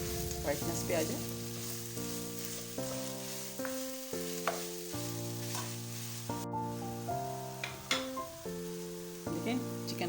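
Chicken mince and garlic fry in a pan with a bright, continuous sizzle, punctuated by repeated spatula stirs and scrapes; a tonal hum runs underneath.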